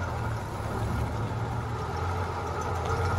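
A classic lifted Ford truck with a big straight-six engine pulls away, its low steady engine rumble continuous and fairly loud throughout with no talking.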